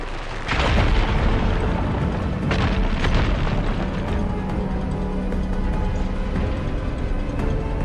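A fire gleam blasting apart a pile of rubble in Horizon Forbidden West: a loud close boom that kicks off a sustained rumbling crumble, followed by further thuds and settling debris, with no voices.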